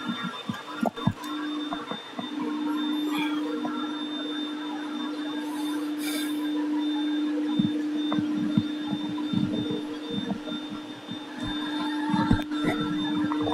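An Ecovacs Deebot N20 Pro robot vacuum cleans a floor with a steady motor hum and a faint high whine, broken by irregular rattles and knocks as it sucks up debris at close range.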